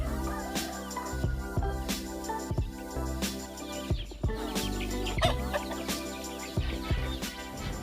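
Free-range chickens on a Philippine farm cluck and call in overlapping bursts, several birds close by and fairly loud throughout, with sharp repeated clucks punctuating the flock chatter.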